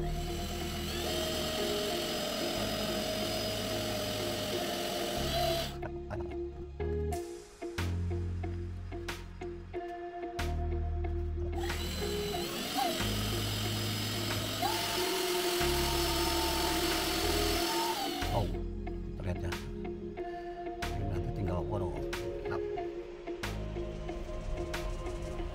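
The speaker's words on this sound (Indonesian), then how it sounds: "sekarang kita akan poles menggunakan ini, tapi menggunakan mesin" A polishing machine working on a duralumin ruler, a loud, close high-pitched whirring that runs on and off in several bursts with short pauses between them, like a small power tool.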